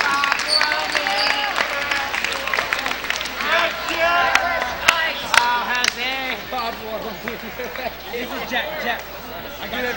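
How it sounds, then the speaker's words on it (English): Crowd at a girls' high school basketball game in a gym, clapping as an injured player is carried off, with scattered claps mixed into steady chatter and several voices talking throughout. "big hand from the crowd"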